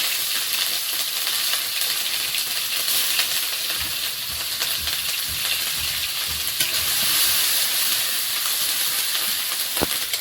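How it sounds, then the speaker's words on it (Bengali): Whole cumin seeds and green chillies sizzle steadily in hot oil in a wok, a close, continuous bright crackle with occasional stirring and no voices. "কড়াইয়ে আবার একটু তেল দিলাম গোটা জিরে কাঁচা লঙ্কা"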